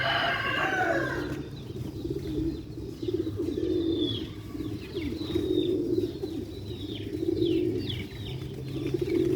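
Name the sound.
pigeons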